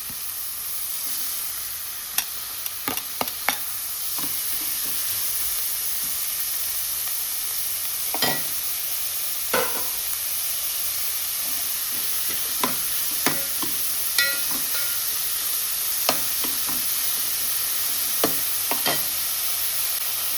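Finely chopped onions fry in hot oil in a pan, giving a steady close hiss of sizzling broken by sharp spitting crackles and occasional stirring scrapes, with no talk.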